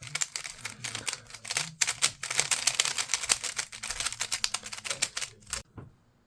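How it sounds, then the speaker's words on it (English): A Moyu Super Weilong V2 speed cube, set up with magnets at maximum strength, turned quickly in a dense run of fast clicky clacks. The turning continues for about five and a half seconds close to the microphone, then stops abruptly. "I just set up the cube and now it turns pretty fast"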